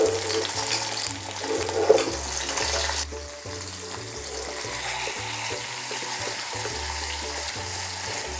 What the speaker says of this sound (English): once you have the fish inside, lower it down to medium to low heat, and then we're going to slowly cook the fish